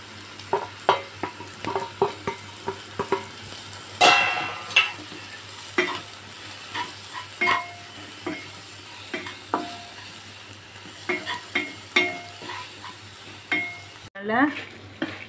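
Tomato with turmeric, salt and asafoetida frying in a pan while a utensil stirs, giving steady sizzling and scraping with occasional clinks of metal against the pan, close and continuous.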